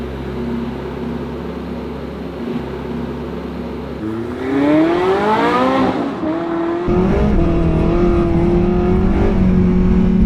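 A McLaren 765LT with a Stage 4+ build idles with a low rumble, then the engine revs sharply upward and falls back. It settles into a deeper, louder, steady engine note, close and with no talk over it.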